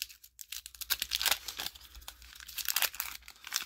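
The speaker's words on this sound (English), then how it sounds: "let's do a quick little rip of non-sport cards" A 1970s pack of Nasty Tricks non-sport trading cards being ripped open by hand, close crinkly wrapper tearing and rustling in quick irregular bursts.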